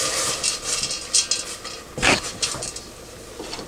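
Spoon clinking and scraping against a saucepan while stirring melted Kerrygold butter on a stovetop, with a sharp clatter partway through and a steady bright background hiss.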